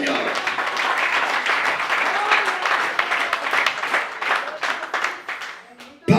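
Congregation clapping in praise at a church service, a dense, sustained wash of hands that stays loud for several seconds before tapering off near the end, with talk mixed underneath.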